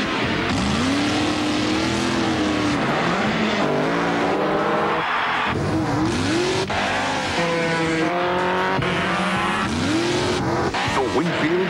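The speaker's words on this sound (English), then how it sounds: "Top fuel dragsters, touring cars," Top fuel dragsters and touring cars racing at Eastern Creek Raceway, loud engines revving and rising in pitch with tire squeals, passes and shifts over a busy, dense roar.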